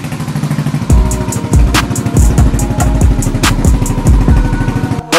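Honda Ruckus scooter engine with a stuck throttle, loud and close, revving in repeated surging bursts over a rattling, fast-pulsing exhaust burble that keeps rising and falling.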